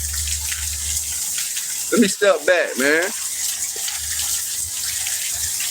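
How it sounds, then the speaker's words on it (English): Steady rain falls outdoors beside a parked red car, a continuous broadband hiss with a brief burst of speech in the middle. "And it's starting to rain even more."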